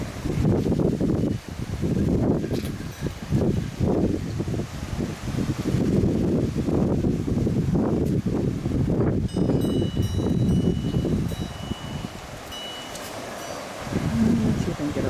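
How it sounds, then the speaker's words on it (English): Strong spring wind in Lompoc blows through leaves in a continuous roaring, rustling gust that buffets the microphone. A person talks faintly underneath. "Windy day in Lompoc today."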